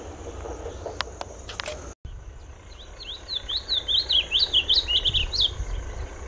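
A masked yellowthroat (pia-cobra) sings outdoors, a run of quick, bright, rising-and-falling notes repeated in close succession, moderately near over faint insect hum, after a few sharp clicks and handling bumps.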